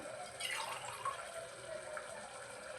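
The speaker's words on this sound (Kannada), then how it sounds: "ನೀರನ್ನ ಹಾಕ್ತೀನಿ ನೋಡ್ತಾ ಇರ್ಬೋದು" Water pours briefly into a cooking pot of tamarind mixture for village-style huli uppittu, a quiet, close splashing gush lasting a few seconds.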